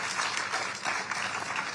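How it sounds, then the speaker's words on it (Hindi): Audience applause at a literary festival in Kolkata, a soft, moderately dense patter of clapping from a seated crowd, fairly faint and steady over its short length. "तो तालियां होनी चाहिए जबरदस्त, जोरदार।"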